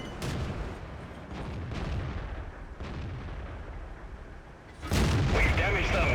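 Tank guns boom repeatedly in World of Tanks, with a Caernarvon heavy tank firing into a KV-5: several loud, sharp blasts spaced across the clip, the final one heaviest and followed by rumbling debris, over constant battle noise and radio chatter.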